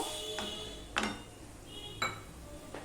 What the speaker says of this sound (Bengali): মশলাটা আমি ভালো করে কষিয়ে নেব মিশিয়ে নিয়ে নেব